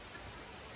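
Steady hiss of heavy rain falling on a ballpark in the MLB 26 baseball video game, an even, continuous wash of noise with no breaks.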